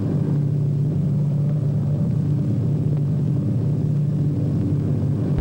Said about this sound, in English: He can look down and see the tall buildings of the big city as his plane flies over it.